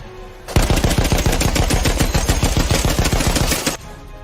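A WWI fighter plane's machine gun in Western Front Ace fires one sustained, loud burst of rapid, evenly spaced shots lasting about three seconds. Quiet comes before it and after it.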